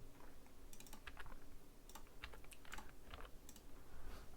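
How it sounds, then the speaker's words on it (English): Typing on a computer keyboard while entering measurements for thermal pads during a GPU repair: scattered clusters of light key clicks over a steady low hum, fairly close, with no voices. "The measurements are completely the same here, so I will type it just like that for you,"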